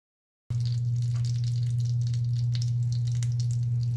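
Butter melts in a pan for shrimp scampi: a soft, steady sizzle starts abruptly after a brief silence and runs on evenly over a low background hum.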